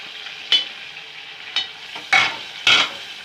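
Masala fries in a pan under a low, constant sizzle, punctuated by four sharp spatula scrapes and stirs at uneven intervals; no one speaks.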